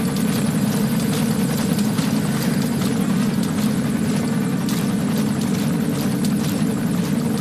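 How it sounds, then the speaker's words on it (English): A helicopter in the video game Metal Gear Solid 5: The Phantom Pain drones with a constant, loud rotor throb and engine hum, steady and unbroken throughout with no voices over it. "When a helicopter shows up."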